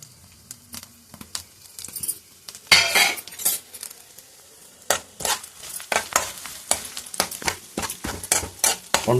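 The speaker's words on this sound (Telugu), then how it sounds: "తాలింపు వేసేస్తాను." Spices are tempered in hot oil for a red chilli and tomato chutney. A soft sizzle runs under repeated sharp clinks and scrapes of a spoon against a metal pan, close and uneven.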